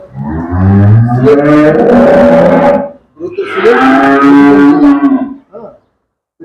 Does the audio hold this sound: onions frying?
no